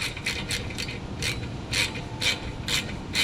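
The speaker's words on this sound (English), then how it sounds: "Ratchety. Could use an electric ratchet and that would be fine." Ratchet wrench clicking in quick repeated bursts of rasping pawl clicks close by during a Subaru wheel bearing job, over steady low background noise.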